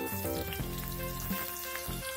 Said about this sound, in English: Heat some oil in a pan and fry the parboiled potatoes.